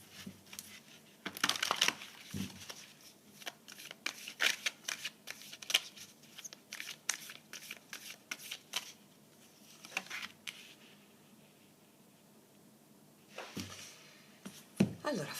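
Tarot cards shuffled and handled during a morning reading, with a long run of soft riffling, slaps and clicks, close and fairly quiet, thinning out near the middle before a few more handling noises at the end.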